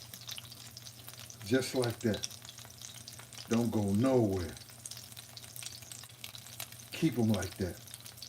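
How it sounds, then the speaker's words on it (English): Meat frying in a pan sizzles steadily through the background while someone talks in short bursts over it. "Y'all let them joints cook. Y'all let them shit sizzle."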